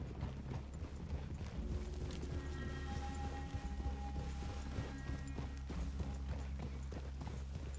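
Steady clip-clop of horse hooves plodding along in Red Dead Redemption 2 over a dense, constant background with music-like tones, no talking.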